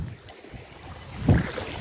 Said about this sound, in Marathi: जरा वारा खूप आहे इकडे